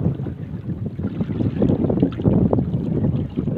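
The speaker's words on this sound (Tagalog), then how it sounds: "malakas na yung hangin" Strong wind buffets a small fishing boat out on the water, a loud continuous rumbling roar with uneven gusts and no voices.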